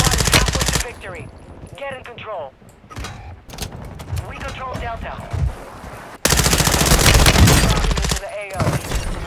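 Automatic gunfire rattles in Call of Duty Warzone 2.0, with loud, dense bursts at the start and end and sparser shots in between, heard alongside game sounds and a player talking over them.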